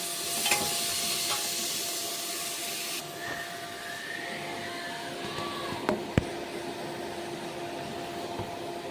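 Onion, tomato and garlic paste goes into a hot pot while cooking mutton, producing a soft, steady sizzling hiss that is louder at first, then settles lower, with a few faint clinks.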